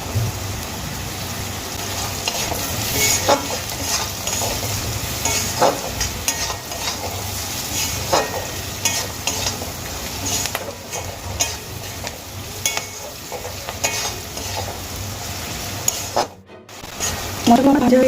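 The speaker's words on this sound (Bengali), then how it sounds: "মশলা ভাজা হয়ে গেছে" Spice masala frying in a pan while being stirred, a continuous close sizzle with frequent scraping stirs and clicks, briefly cutting out near the end.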